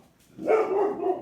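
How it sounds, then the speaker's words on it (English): A pet dog barks indoors during home cooking in Cape Town: after a quiet start, one sustained, fairly close, loud bark-like yelp that wavers for under a second. "Sorry about my dog barking"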